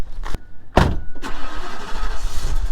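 An RV engine cranks with a few short starter bursts, then catches and settles into a steady close idle with a faint whine on top.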